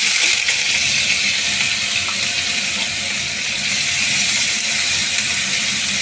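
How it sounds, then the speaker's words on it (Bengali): Chopped onion sizzles in hot white oil in a wok, a steady, loud hiss and crackle that runs unbroken from start to finish with no voices over it. "পেঁয়াজটা আমি লাল করে ভেজে নিয়েছি।"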